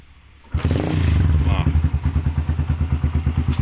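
An old single-cylinder motorcycle engine with two spark plugs fires on the first kick after a quiet moment, then settles into a loud, close, steady lumpy idle with an even rhythmic pulse.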